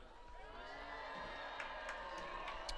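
Crowd at a Wrightstown high school football game at night, cheering and shouting at a distance, a broad steady roar with occasional whoops and sharper bursts toward the end, faint talk mixed in.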